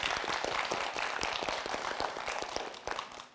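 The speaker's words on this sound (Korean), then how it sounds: "한세진 학생 미래의 행운이 깃들기를 큰 박수 부탁드립니다." Audience applause for a student contestant on a televised school quiz show, a steady dense patter of many hands, moderately loud and fading slightly at the end.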